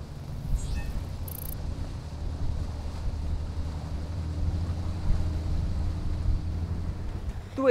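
A BWA Sport 28 GTO inflatable boat powered by a Suzuki outboard with twin counter-rotating propellers runs on open water, a steady low engine drone mixed with wind buffeting and water rush.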